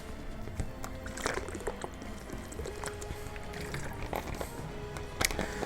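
Water poured for drinking, a continuous splashing trickle with a few brighter clinks, moderately close and alone.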